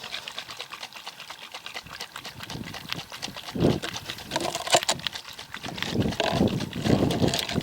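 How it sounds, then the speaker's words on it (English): An MSR TrailShot pocket-sized water filter with water in it is shaken by hand. It gives a rapid, rhythmic sloshing rattle that starts faint and grows louder and busier toward the end. "I'm going to put the lid back on here and I'm going to shake this for 20 seconds"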